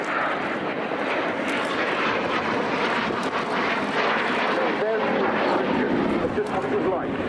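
A Messerschmitt ME-262 jet fighter roars through a flying display at RIAT 2023, a sustained loud jet rush swelling and shifting as it passes, with a voice speaking over it.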